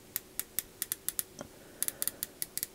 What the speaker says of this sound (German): Gucken wir uns jetzt die Lünette an. Einseitig drehbar. Klickt super sauber ein.